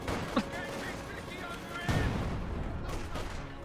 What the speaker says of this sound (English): this barrage trying to hit something?